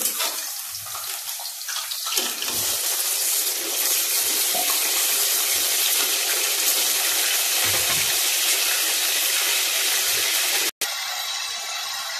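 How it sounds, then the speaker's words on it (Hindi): Chicken leg pieces dropped into hot oil set off a loud, continuous sizzling crackle that swells after a couple of seconds and holds steady, briefly cutting out near the end, with no voices. "अब मेरा ऑयल जो है वो गर्म हो गया। मैं उसके अंदर ये लेग पीस डालने लगी हूँ।"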